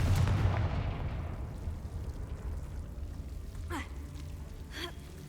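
The Confringo fire spell in the video game Hogwarts Legacy lands as a loud, booming blast at the start, then fades into a rumbling tail with faint swishing effects afterward.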